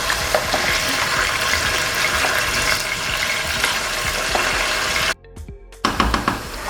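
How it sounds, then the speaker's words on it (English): Meat frying in oil for an ayamase stew, a steady dense sizzle close by throughout, briefly cut off near the end before resuming. "I'm going to fry the meat because the meat is what it needs to get fried."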